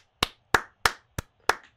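Five crisp, close hand claps in an even rhythm, sharp and separate with brief decays, sounding alone with nothing in the background.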